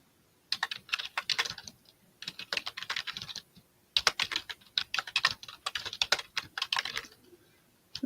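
Quick bursts of typing on a computer keyboard during a live vintage auction, clicking keys close and clear in several runs separated by short pauses, with no talk over them.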